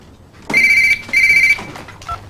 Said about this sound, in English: Answer that flipping phone